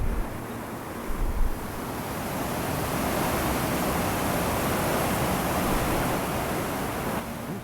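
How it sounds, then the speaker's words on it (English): Katiam waterfall near Ban Lung, Cambodia, a broad, steady roar of falling water that holds an even, loud, noise-like wash throughout, with a brief burst of buffeting at the start. "Here's another waterfall called Katiam."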